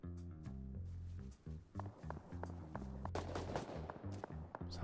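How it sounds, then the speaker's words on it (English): An HMLMG machine gun in the survival game Rust fires in rapid bursts that grow denser toward the end, mixed under steady, droning background music. "Did I just hear a HMLMG?"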